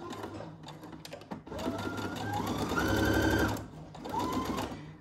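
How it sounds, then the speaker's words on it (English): A home sewing machine stitches a seam with a 5/8-inch seam allowance on a dress pattern, whirring steadily up close. It speeds up and grows louder in the middle, then slows and runs again. "Let's start stitching."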